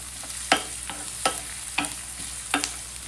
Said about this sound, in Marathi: आता आपण कांदा ऍड करूया एक कांदा घेतला मी छान असा परतून घेऊया